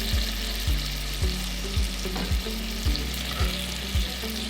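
Food fries in a hot pan with steady, close sizzling, and regular stirring or scraping strokes recur about every half second.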